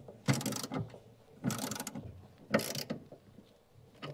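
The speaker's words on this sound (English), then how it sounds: "And secure it in place with the nuts." Nuts are tightened on the battery bracket of a Mazda MX5, heard as three close, distinct bursts of ratcheting and metallic turning with short pauses between them.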